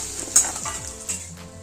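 Onions sautéing in a pan for a Marathi vegetable dish, a soft sizzle under a few light scrapes and clinks of stirring, close and fairly quiet, with no talking.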